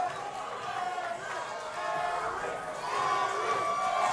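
A crowd in a cagefighting arena at New Line Cagefighting 22 roars and cheers as two fighters' supporters shout from opposite corners, a dense, fairly distant wall of yelling that swells louder toward the end.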